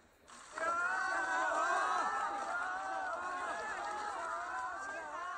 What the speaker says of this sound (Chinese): 游客们高声欢呼：“总书记好！”